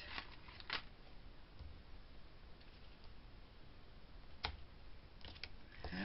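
Scissors snip through craft twine on a handmade Valentine's pocket card, with a couple of short, crisp cuts at close range over faint room noise.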